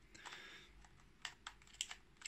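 Canon EOS M50 mirrorless camera battery being inserted into its compartment, giving a few sharp, close plastic clicks and snaps in quick succession, with light fumbling before them and no voices.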